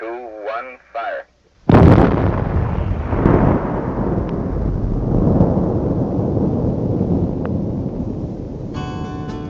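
A mine blast near Butte, set off after a countdown, erupts as a sudden deep boom that rolls into a long, heavy rumble fading slowly, with brief voice-like sounds just before it.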